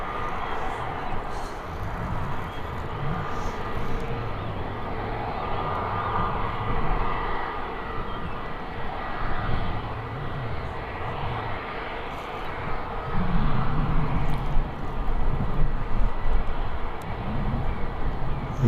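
EasyJet airliner taking off at Birmingham Airport, a broad, steady jet engine roar at a moderate distance that swells toward the end, with someone talking over it.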